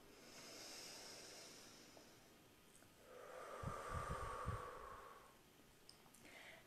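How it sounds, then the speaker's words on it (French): Slow, soft breathing drawn in through the nose and let out through the mouth during a seated posture and relaxation exercise, faint and close, with a hissing exhale swelling midway and no talk. "Inspirez par le nez. Expirez par la bouche."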